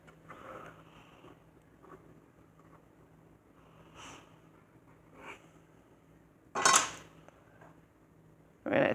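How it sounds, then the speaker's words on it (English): Plastic knife scraping around the edge of a muffin pan in a kids' baking session, heard as quiet, sparse scratches and light clinks, with two louder knocks against the pan near the end. "So now you're going to take your plastic knife or your spatula and you're going to run around the edge again to loosen it off from the pan."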